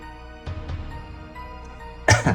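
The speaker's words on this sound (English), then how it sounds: "I'm like coughing here" A few short, harsh coughs, a pair of softer bursts early on and a louder, rougher cough near the end, with a quiet room hum between.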